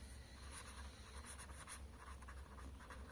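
Pen or pencil scratches faintly on paper as a math divisibility rule for 11 is written out by hand, with a continuous soft scraping and short rhythmic strokes and no voices.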